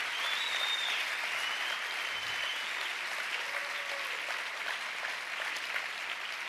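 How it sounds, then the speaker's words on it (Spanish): A church congregation applauds for the Lord, a soft, even wash of clapping heard from a distance and held at a constant level throughout. "denle un aplauso fuerte al Señor"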